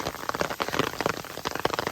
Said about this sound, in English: I was enjoying light rain, but it's just turned to hail. Tiny little size.